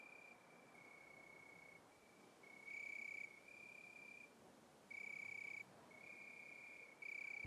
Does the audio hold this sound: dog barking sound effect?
no